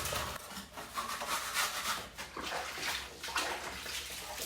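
Water splashes and runs steadily while a fridge is scrubbed and washed at home, with rubbing and scraping noises mixed into the continuous wet wash, fairly close and moderately loud, with no talking.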